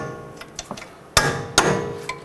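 Bolts hammered through the steering knuckle on a 2007-2010 Chrysler Sebring: a few light metal taps, then two loud, ringing hammer blows close by.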